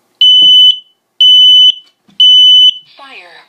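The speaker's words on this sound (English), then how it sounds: "to have that smoke detector activate" Three loud, piercing smoke alarm beeps sound in an even rhythm, then a short voice follows.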